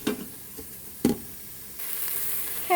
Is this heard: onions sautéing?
yes